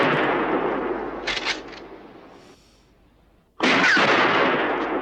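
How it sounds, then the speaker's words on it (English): A gun battle in a 1964 western film produces loud bursts of gunfire that come in two clusters. A quieter gap sits between them, and no voices are heard. "a gun battle is going on"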